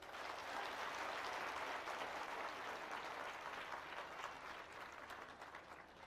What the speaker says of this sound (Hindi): भैया आप ताली तो बजा दीजिए।